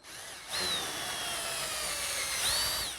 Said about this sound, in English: Now note that we're using square drive screws here.